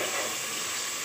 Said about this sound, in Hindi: अब इसमें टमाटर भी डाल दें और उनको अच्छी तरह से भून लें।